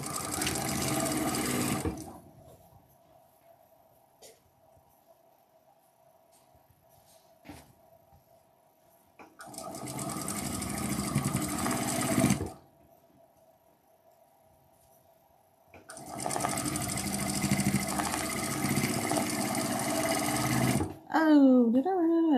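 Sewing machine stitching in three long steady bursts with quiet pauses between, a steady motor whir during each run, and a short rattly sound at the end.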